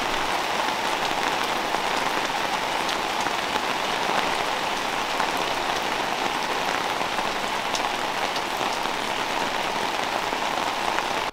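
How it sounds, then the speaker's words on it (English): Steady rain falls on a campsite in the Castlemaine goldfields, a continuous even patter with scattered nearby drops spread across the whole stretch and no one talking. "as you can see here, we got quite a bit of rain."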